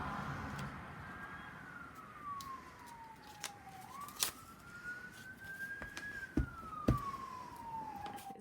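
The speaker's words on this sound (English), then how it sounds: "Very busy day for ambulances today." An ambulance siren wails in slow rising and falling sweeps, fairly distant and faint, with scattered clicks and knocks nearby.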